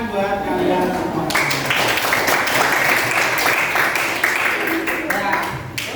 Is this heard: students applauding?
yes